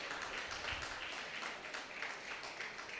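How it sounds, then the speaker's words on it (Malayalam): Audience applause for a children's dance performance at the Sai Veena School of Arts Nruthosthsavam 2025 dance festival, a steady, faint wash of many hands clapping together with no voices on top. "നല്ലൊരു കയ്യടി."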